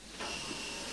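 A steam locomotive in a train simulator game lets out a steady hiss of steam that swells in at the start and holds on evenly, fairly soft and alone.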